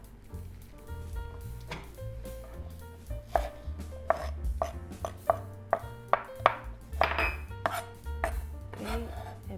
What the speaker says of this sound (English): and chop the green onion. Take away the top part and the bottom part.